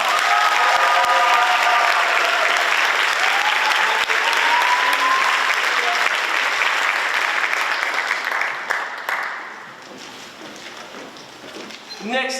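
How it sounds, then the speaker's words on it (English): A school senior awards audience gives students a loud, dense round of applause that holds steady, then thins and fades to scattered claps near the end. "Let's give these wonderful students one more round of applause."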